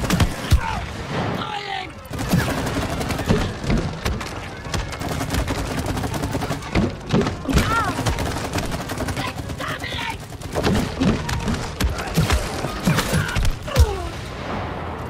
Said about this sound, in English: Hey, you're pretty good with that match gun.